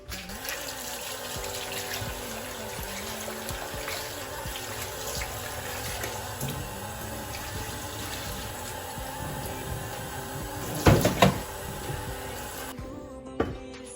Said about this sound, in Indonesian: ayamnya udah kita cuci bersih